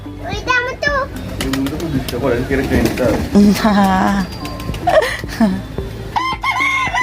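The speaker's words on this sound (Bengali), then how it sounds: "এই মুরগিটা বিরক্ত করছে বাইরে দেখে" Chickens cluck and cry loudly nearby on a rooftop, several birds calling in bursts with a short crow-like call, while people talk over them.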